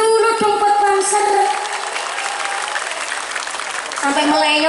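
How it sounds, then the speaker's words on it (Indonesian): Audience clapping for Banser at an Islamic religious gathering, a broad crowd patter running throughout, with someone speaking and exclaiming loudly over it. "Tepuk tangan dulu dong buat Banser."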